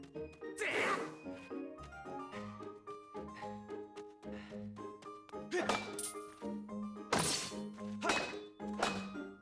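Sword slashes and thuds from a spin attack in The Legend of Zelda: Skyward Sword, a run of sharp whooshes and impacts over steady game music, some strikes louder and brighter than others.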